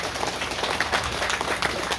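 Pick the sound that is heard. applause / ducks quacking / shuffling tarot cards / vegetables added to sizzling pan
applause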